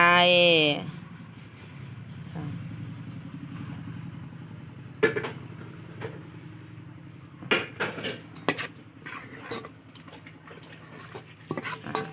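Spicy Thai shrimp salad gets stirred in a bowl, giving scattered clinks and scrapes of utensils against the dish, some sharp and close, while someone talks over the mixing.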